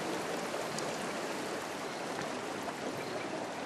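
Water rushes steadily through a fish ladder, a continuous broadband hiss and gurgle of flowing stream water, moderately close and unchanging, with no voices.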